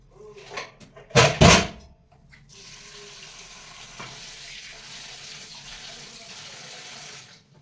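Water runs from a tap over an old silver Ganesh idol being wetted before cleaning, a steady close splash that follows a few louder bursts of flow at the start, with no talk.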